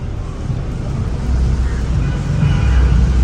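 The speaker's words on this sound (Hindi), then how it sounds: "अब एक बार आपको एग्जॉस्ट सुनाता हूँ इसकी गाड़ी का कि एग्जॉस्ट कैसा है।" A modified Volkswagen Polo's loud aftermarket exhaust on a cold start: a deep, heavy rumble close to the microphone that grows steadily louder and fuller over a few seconds.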